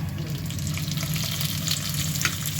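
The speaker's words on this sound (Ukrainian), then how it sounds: "викладаю на пательню борщову заправку" Borscht dressing fries in a pan with a steady, close sizzle and light crackle that holds evenly throughout, with no voices.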